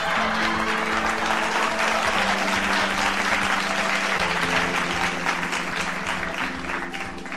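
Loud, sustained audience applause fills a studio for an Eid special television show, steady dense clapping with a held musical tone underneath and no talking.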